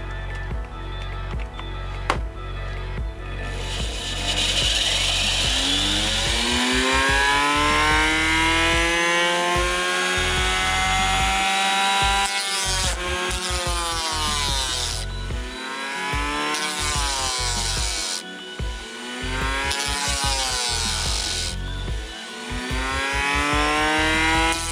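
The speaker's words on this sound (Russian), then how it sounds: "Включаем станок." Woodworking machine tool running in a home workshop, with a steady motor whine that rises and falls in repeated pitch sweeps as it loads and unloads, loud and close, continuing for the whole span.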